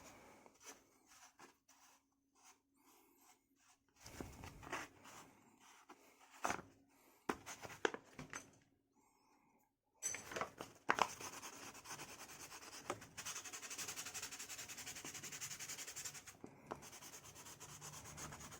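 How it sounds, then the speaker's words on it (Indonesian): Quiet hand sanding of a cut aluminium alloy tent pole end, irregular scraping strokes at first, then a steadier, louder rasping rub in the second half. "kita amplas sedikit ya"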